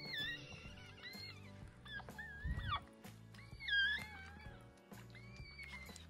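A newborn Cavapoo puppy, just born to a tiny seven-pound teacup Cavapoo mother, gives a few thin, high, wavering cries and whimpers, faint and close, over soft background music.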